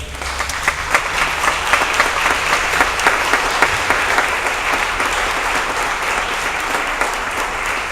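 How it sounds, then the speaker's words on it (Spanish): A church congregation bursts into loud, sustained applause during a sermon, a dense continuous wash of many hands clapping that holds steady and close throughout, with no voices on top. "Dale un aplauso a Él."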